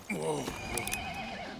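In the video game Highguard, a horse gives a clear whinny followed by clip-clop hooves, fairly close and moderately loud, with game sounds around it.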